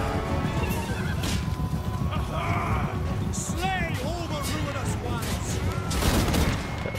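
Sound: troops firing at close range in a video game battle

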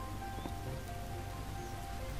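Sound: rain in the video game Starbound

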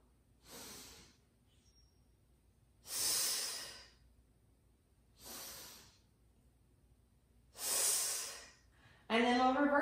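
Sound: breathing during a mat flow exercise

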